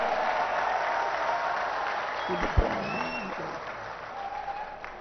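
Crowd applause at a political election rally in Dabwali, Haryana, a steady wash of clapping from a large outdoor audience that holds for several seconds, with a brief louder burst midway.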